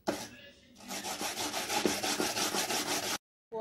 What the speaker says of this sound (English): So this is how we grate it using a hand grater.